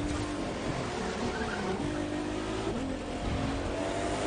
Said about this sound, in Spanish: vamos a probar el Jaguar porque notaba raro el juego